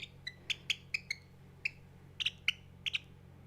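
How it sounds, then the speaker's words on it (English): Small gray chick chirping in a chicken coop, about a dozen short, high, sharp peeps in an uneven rhythm, fairly close and clear over a low steady hum. "Just a little gray bird."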